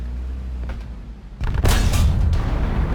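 After a low droning engine, a heavy cannon blast booms out, followed by a second loud shot and rumbling echo, close and forceful. An M47 tank's cannon in the video game War Thunder.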